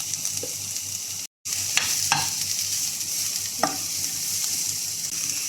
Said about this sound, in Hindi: अदरक लहसुन का पेस्ट पे डालकर हमको 2-3 मिनट प्याज को भूनना है।